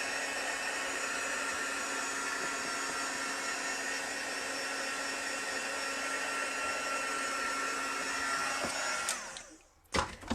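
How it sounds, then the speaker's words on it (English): A handheld craft heat tool blows hot air over an ink-blended card background, a loud steady whirring drone close by that runs for about nine seconds before cutting off with a couple of clicks. "just take your heat tool and go over it. And that will dry really nicely."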